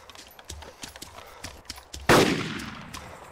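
A single sharp, loud DMR rifle shot in the DayZ video game, cracking out after soft footstep-like clopping and trailing off in a long echoing decay.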